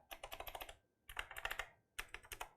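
Quick bursts of typing on a Royal Kludge typewriter-style mechanical gaming keyboard with round, soft-touch, low-resistance keys, three clusters of rapid clacks separated by short pauses, close and clear with no voices.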